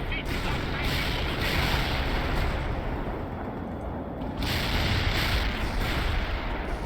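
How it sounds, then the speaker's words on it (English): Artillery fire in World in Conflict on very hard difficulty during the Russian invasion, a dense, continuous roar of rumbling blasts and gunfire with no clear gaps, loud throughout, a voice talking over it. "we can continue to just drop artillery on people"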